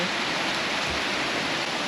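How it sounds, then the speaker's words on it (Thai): Heavy rain pours steadily on a morning in Denmark, a dense, continuous hiss of water with no breaks and no voices over it. "ฝนตกสุดยอด ตกหนัก ตกตั้งแต่เช้ายังไม่หยุด"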